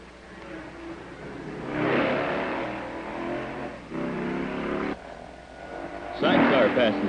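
A Triumph motorcycle with sidecar races past on a 1959 desert enduro course, its engine swelling and fading in waves of moderate loudness while a narrator talks over it.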